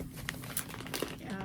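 Plastic protective bag crinkling around a Wizarding Trunk Year 2 subscription box as it is opened, a steady close rustle with sharper crackles throughout.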